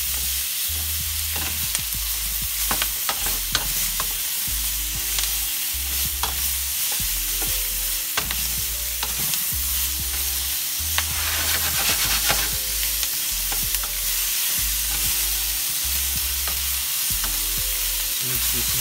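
Red and green peppers with onions sizzle steadily in a hot pan while tongs stir them, with repeated scraping and clinking strokes over a constant close frying hiss.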